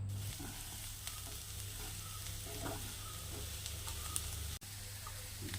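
Onions with garam masala and other spices sauté in a pan for chicken samosa filling, giving a quiet steady sizzle with a few faint stirring scrapes and a low hum underneath, close, without talk.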